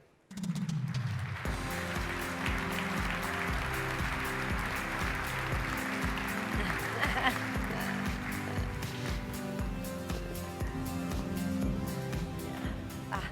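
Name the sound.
audience applause welcoming keynote speaker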